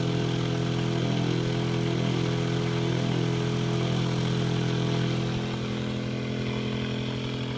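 A Bedini motor runs at increased RPM after a voltage boost, a steady mechanical hum with a buzzing rattle, loud and constant, easing slightly near the end.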